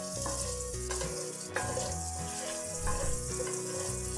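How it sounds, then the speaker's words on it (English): Parsley sizzles and pops in hot butter and bacon grease over too-high heat, a steady broadband frying hiss with a sharp pop near the middle, under faint background music tones and no talk. "I'm putting some of my parsley inside of my butter and bacon grease, and it is too high, so it's popping"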